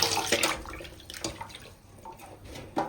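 Running water pours and splashes steadily as cut pieces of a large 4 kg katla fish are washed in a basin, close and fairly loud, with no talking.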